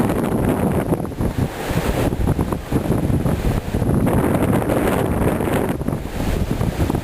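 Hurricane-force windstorm from the remnants of Hurricane Ike sweeping through Indiana: a loud, continuous roar of wind blasting the microphone, surging in gusts with brief dips between them.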